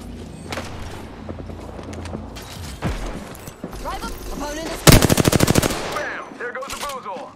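Gunfire in the video game Apex Legends: scattered shots and impacts, then a loud rapid automatic burst near the middle, mixed with game sound effects and voice lines.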